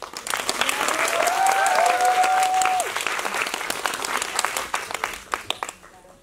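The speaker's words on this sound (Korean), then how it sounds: "다시 한번 두 분 인사 나누실 때 큰 박수 부탁드릴게요." A film festival audience in Busan claps at a 20th-anniversary screening talk for the film Janghwa Hongryeon, a full burst of applause that builds and then thins into scattered claps before stopping.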